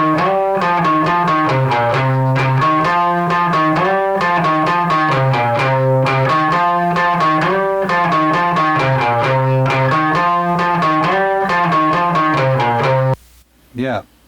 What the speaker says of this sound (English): That was my old like knackered Hofner electric guitar through my Vibrachamp.